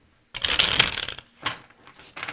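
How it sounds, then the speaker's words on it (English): Tarot cards being shuffled by hand, one long riffling burst followed by two shorter crisp shuffles, close and clear with no talking. "That was a beautiful shuffle."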